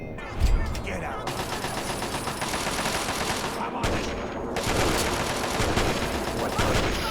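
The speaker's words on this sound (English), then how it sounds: "What are they shooting at us?" Rapid automatic gunfire crackles in bursts through the Operation Anchorage fight in Fallout 3, mostly continuous with short gaps and a sharp thump at the start, moderately loud and distant.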